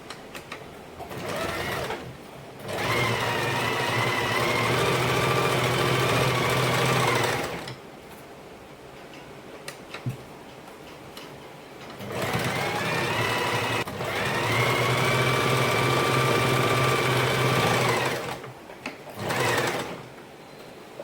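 A sewing machine stitching a lining-cloth fall onto a saree runs in long steady whirring bursts, with brief pauses and quiet handling noise between runs, close and even.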